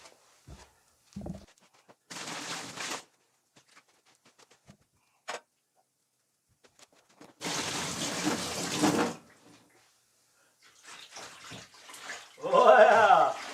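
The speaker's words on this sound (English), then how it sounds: "With the hot water, it'll be about 2 fingers deep" Hot water runs into a bathtub in intermittent bursts, with two longer gushes separated by quiet stretches and faint clicks, and a voice is heard briefly at the end.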